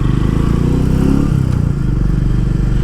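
Royal Enfield Meteor 350 motorcycle being ridden, its single-cylinder engine thumping steadily up close with a rumble that shifts as the rider works the throttle, under heavy wind noise.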